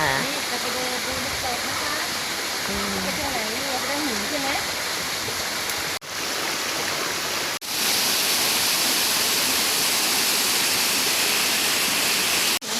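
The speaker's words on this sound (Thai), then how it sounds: "น้ำตก น้ำใสไหลเย็น" A steady, loud rush of falling water from a forest waterfall in Mae Wong National Park, Thailand, fills the whole clip, broad and constant, with a person talking over it at the start.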